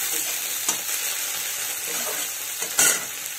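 Small shrimp hit hot oil in a pan, giving a soft steady sizzle with a few sharp crackles and the scrape of stirring.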